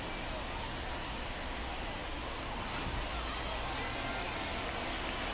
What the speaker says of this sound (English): MLB The Show brings you baseball on a rainy night